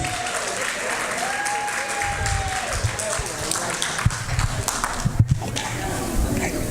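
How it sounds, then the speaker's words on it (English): An audience at a senior center volunteer recognition applauds in a steady wash of clapping, with a few cheers and voices mixed in and a couple of louder bumps near the end. "Everybody, please applause for."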